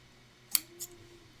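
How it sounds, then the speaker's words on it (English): Ribbon scissors trim the tails of a ribbon with two quick, crisp snips close by, a sharp cut followed by a softer second one over a quiet background. "Grab my ribbon scissors"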